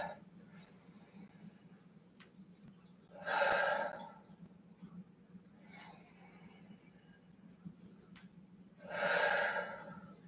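Two deep, audible breaths during a yoga exercise, each a loud breathy rush lasting about a second, spaced several seconds apart over a low steady hum.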